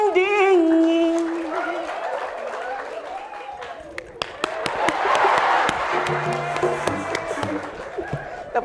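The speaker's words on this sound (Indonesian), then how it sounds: "Tepuk tangan." An audience at a comedy performance breaks into scattered applause, sharp claps rising midway and building into a crowd clapping and cheering, following a stretch of sung and spoken voice.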